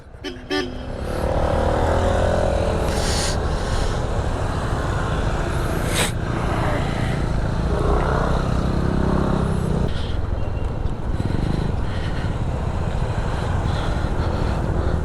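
A group of nine motorcycles, a mix of Aerox, Click, NMAX, XMAX and ADV scooters, sets off together, engines droning steadily and close with a horn toot, passing traffic noise and no talking.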